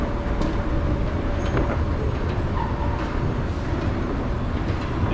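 Steady, loud rumble of an underground subway train filling the station early in the morning, a continuous broadband roar with no pauses and no voices.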